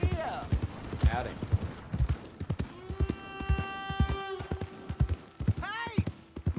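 Hooves clip-clop in a steady rhythm alongside a voice talking, with a horse's whinny partway through, in the video game Red Dead Redemption 2.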